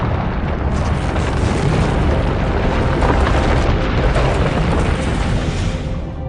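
An undersea volcanic eruption rumbles as a dense, sustained roar of booming bursts, loud and unbroken from start to finish, with no voices over it.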